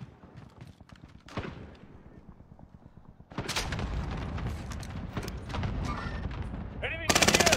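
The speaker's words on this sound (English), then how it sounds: "Allied cluster strike arriving." Loud video-game battle: a cluster airstrike lands in a dense burst of explosions and rapid gunfire, building after a quieter stretch of scattered shots and ending in a sharp, harsh blast.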